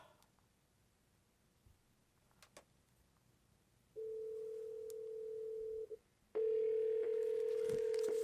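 After a phone line cuts off, a telephone dial tone sounds: a quiet hiss with a couple of faint clicks, then a steady two-second tone, a brief break, and a louder continuous tone resuming.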